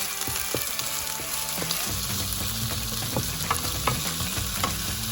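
Cabbage rice with potatoes cooks in a pan, a loud, steady frying sizzle running under repeated scraping and stirring strokes, close and continuous with no speech.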